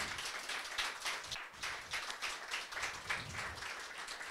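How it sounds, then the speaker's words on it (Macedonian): Audience applause at the ProdACT Meetup in November 2024: a steady, dense wash of clapping from a crowd that runs the whole stretch without a break. "Молам еден аплауз за господинот Виса Рамадани."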